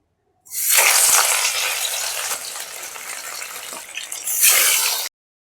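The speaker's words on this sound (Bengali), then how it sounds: "এবার এক এক করে আমি মাছগুলো দিয়ে দেব" Pieces of bhetki fish slide into hot oil one after another, setting off a loud, steady, broadband sizzle that surges at the start and swells again near the end, with no voices.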